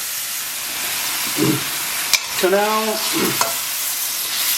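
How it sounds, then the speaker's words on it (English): Goat meat fries in a pan for Javanese goat curry once the water has cooked off, giving a loud steady sizzle with stirring scrapes and a brief clatter; a voice speaks a couple of words. "the water's all gone, it's frying"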